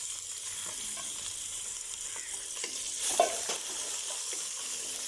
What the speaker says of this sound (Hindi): इस मटन को हम प्याज के अंदर और घी के अंदर तकरीबन 5 मिनट के लिए